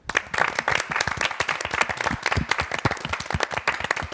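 A small studio group of pastors and church members claps together on a church talk show, a loud, close, irregular burst of many hands lasting several seconds with no talk over it.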